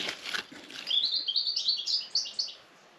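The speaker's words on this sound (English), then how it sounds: "I've got a lot of bird song." Birdsong picked up by a trail camera outdoors: a rapid series of bright, high chirps and tweets, fairly close and clear, after a brief flutter of wings at the start, with no other sounds behind it.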